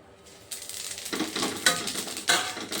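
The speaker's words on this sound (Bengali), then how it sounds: "ওই তেলের মধ্যে দিয়ে দিচ্ছি শুকনো লঙ্কা আর তেজপাতা।" Dried chili, bay leaf and cumin drop into hot oil in a pan and set off a loud, close sizzle that swells in quick bursts as the spices are stirred, after a brief quiet start.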